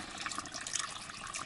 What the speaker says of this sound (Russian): вода уходит с трубы